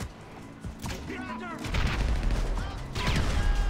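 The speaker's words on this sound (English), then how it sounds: "Grenade launcher time!" A grenade launcher firing in GTA Online: a run of loud booming blasts and gunfire that builds into a continuous barrage, with a voice talking partly over it.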